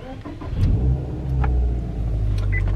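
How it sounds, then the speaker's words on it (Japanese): A Subaru Legacy B4 STI S402's 2.5-litre engine revs with a deep, steady rumble that swells and eases in a couple of surges, close by, with no talking. "この車の ちょっと音を聞いてもらいたいんですけれども"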